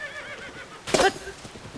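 Horse whinny in Zelda: Tears of the Kingdom, a single short bright neigh rising clearly over a soft background bed of game ambience, close and moderately loud.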